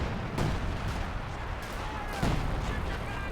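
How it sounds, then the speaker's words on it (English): Artillery fire rumbles through a Company of Heroes 2 battle, with dense continuous explosions and gunfire layered together and a couple of heavier blasts standing out in the noisy mix. "Oh, it's got major artillery there as well."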